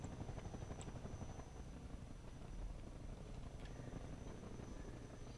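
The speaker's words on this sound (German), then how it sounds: "da schießt schon wieder dieser dumme Hubschrauber" Helicopter in the video game Half-Life 2: a steady, continuous rotor and engine drone with a dense low rumble and a faint high whine holding at an even level throughout, with no talk.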